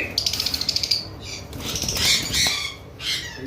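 Pied cockatiels at a bird farm flutter and squawk, a quick run of wing flaps followed by harsh screeching calls at close range.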